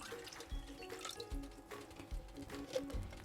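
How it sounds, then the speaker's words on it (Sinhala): Water poured into a saucepan, a soft gurgling splash with uneven pulses and low thumps, faint and close, before gelatin goes in to soak. "ඉස්සෙල්ලාම මේ වතුර මේ සාස්පාන්ට දාගන්නවා"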